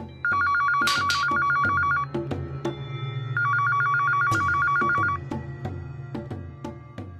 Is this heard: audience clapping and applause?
no